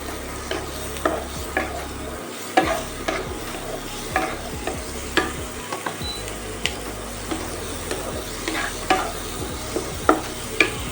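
Three finely chopped onions fry in melted butter for egg pulao, a continuous close sizzle broken by regular scraping strokes of a spatula stirring the pan, with a low mechanical hum underneath.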